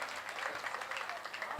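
Audience applause at a Hindi poetry recital, a dense, steady patter of many hands clapping throughout, moderately loud and without a break.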